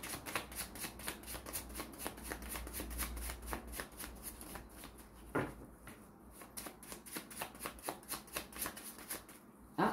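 Tarot cards are shuffled by hand in a steady, rapid riffling patter that runs close and fairly soft throughout, pausing briefly midway.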